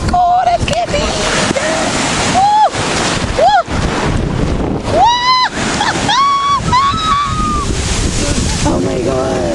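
Ocean surf washes onto a shore in Portugal, a steady roar with heavy wind buffeting the microphone, while a voice lets out several excited exclamations over it.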